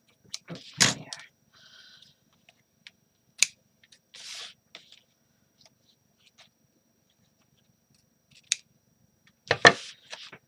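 Scissors snip paper edges in a few sharp, isolated cuts spread apart by silence, with quiet paper rustles between, close and clear.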